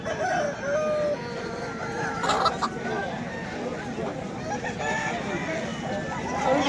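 Rooster crowing amid the bustle of a crowded chicken market where aseel fowl are sold, the calls moderately distant and partly buried under steady crowd chatter and market noise.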